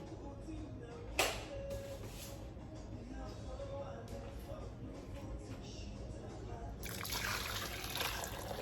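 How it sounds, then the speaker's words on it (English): Hot water pours and splashes steadily over beef liver, swelling louder near the end, with a brief sharp clatter early on and faint voices in the background. "now that I put the hot water over it, we're gonna drain it"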